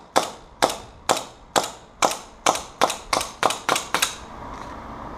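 Eleven sharp shots from a CO2 blowback airsoft pistol, fired in a steady, slightly quickening sequence, each crack followed by a short metallic slide snap, close and clear with no talk.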